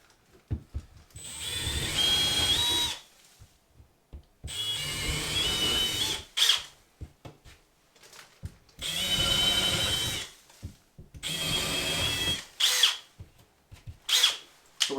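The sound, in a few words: power drill drilling holes for TV wall bracket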